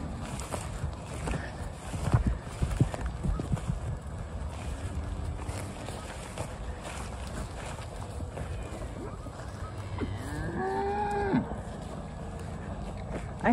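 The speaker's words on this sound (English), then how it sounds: "That's why the mooing's going on." Cattle mooing from a farm field on the far side of a fence, several drawn-out low calls rising out of steady outdoor background noise at moderate distance, with someone talking at times and a few thumps.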